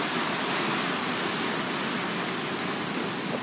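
Ocean surf at a Kauai break, a steady, dense wash of breaking waves roaring continuously and close, with no voices.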